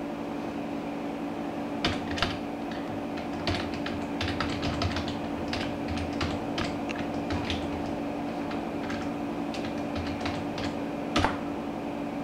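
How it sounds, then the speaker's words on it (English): Fast, irregular clicking of keys on a computer keyboard, fairly quiet and close, over a steady low hum of a fan or air conditioning. "I'll type in the link of my channel, youtube.com."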